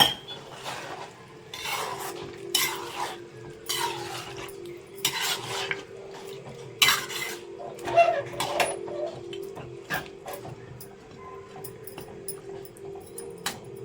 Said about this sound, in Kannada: ಈಗ ಸ್ವಲ್ಪ ನೀರನ್ನು ಸೇರಿಸ್ಕೊತಾ ಇದ್ದೀನಿ